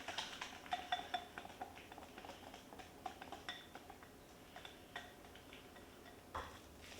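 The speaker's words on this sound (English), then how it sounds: "Add egg yolks and stir thoroughly." Egg yolks are stirred into a corn mixture in a bowl, making quiet, close clinks and scrapes of a utensil against the bowl in an irregular rhythm.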